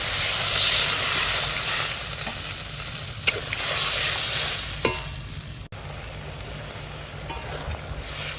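Water goes into a pan of fried spices and melted tomato for a fish curry, setting off loud, continuous sizzling and hissing with a few sharp stirring clicks close by.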